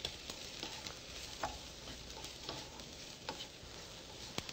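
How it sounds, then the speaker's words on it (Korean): Mushrooms with salt stir-fried briefly over high heat, a soft, even sizzle with light scattered pops and clicks of stirring, heard faintly throughout. "그리고 소금도 맨 처음부터, 그리고 센 불에서 살짝만 그냥 볶아주세요."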